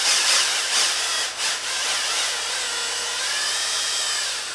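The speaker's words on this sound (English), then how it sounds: "We just use a power drill and just start reaming these out." A power drill reams out a fishing rod grip over a trash can, producing a loud, continuous high whine with gritty grinding, close up.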